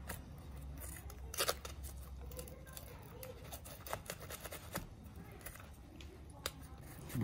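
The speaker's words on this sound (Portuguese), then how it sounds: "Vamos cortar o barbante." Scissors snip through kitchen twine tied around a rolled pork belly fresh from roughly an hour and a half in the oven, giving faint, quiet clicks and snips scattered over a few seconds.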